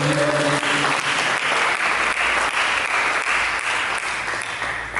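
A church congregation applauds in a dense, steady wave of clapping that fills the room and fades a little at the end, with a brief bit of speech at the very start.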